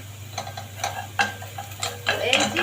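Onions being stirred in a pot for lentils: a few scattered spoon scrapes and light metallic taps against the pot, close by, over a low steady hum.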